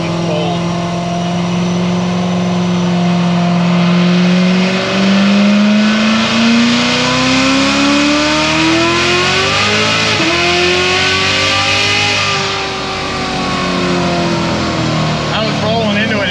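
Tuned car with an RPM Stage 4 build on cold tires, accelerating hard in fourth gear: a loud, close engine note rising steadily in pitch over many seconds, with a strong droning roar and a brief dip near the end.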